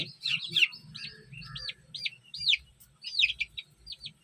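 Young chicks bred from pure fighting roosters peep in rapid, high, clustered chirps, several birds calling at once close by, with faint low rumbling beneath.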